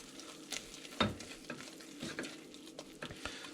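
Potatoes in cheese sauce sizzling and being stirred in a pan, with a quiet frying hiss broken by scraping and clinking strokes, the loudest about a second in.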